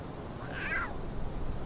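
Lion cubs call from a spot near a fallen tree in the wild, a single faint mewing cry rising briefly over steady outdoor background noise.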